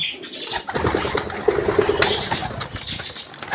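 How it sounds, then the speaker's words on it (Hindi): Pigeons coo softly nearby, with a short burst of wing flapping and rustling in a quiet, enclosed space where they are nesting with chicks and eggs. "सारे कबूतर तकरीबन उन्होंने बच्चे निकाले हुए हैं।"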